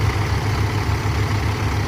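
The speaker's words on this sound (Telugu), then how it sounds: "ఇప్పుడు ఈ రెండు ట్రాక్టర్లు వచ్చేసి హై గేరు టాప్ గేర్లలో రాబోతున్నాయి" Mahindra 575 DI XP Plus and Powertrac Euro 45 Plus 4WD tractors running in high gear, a loud, continuous low diesel rumble with a steady throb and no pauses.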